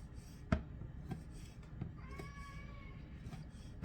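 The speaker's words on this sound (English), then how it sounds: "One of my cats wants some liver" A cat wanting liver lets out a single faint, drawn-out meow in a quiet room, framed by soft scattered knocks and low background noise.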